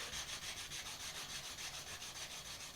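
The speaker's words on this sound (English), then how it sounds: "just sand until we have replaced the texture left by the file with the texture left by the sandpaper" Sandpaper rubbed steadily over the steel blade of a crooked knife (mocotaugan) during cold work, a continuous close hiss with a faint regular back-and-forth pulse, no talking.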